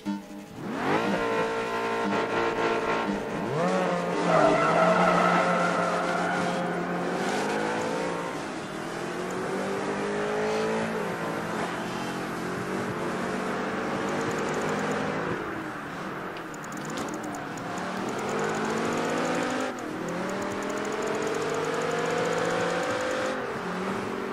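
A race car in Project Gotham Racing 3 revs hard, its tires squealing as it skids and spins out, engine pitch rising and falling in long sweeps, loud and continuous.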